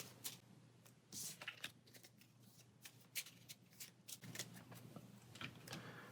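Playing cards shuffled during a Pathfinder Adventure card game, a series of quick soft riffling bursts and taps close by, quiet overall with no talking.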